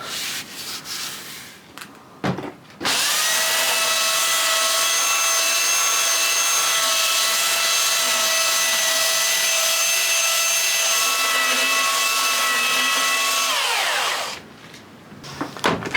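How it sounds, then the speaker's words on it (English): A power sander works along the edge of a wooden piece, its steady, loud whirring grind running continuously for about eleven seconds before winding down, with quieter handling noise before and after and no talk. "I think it's time to change sanders"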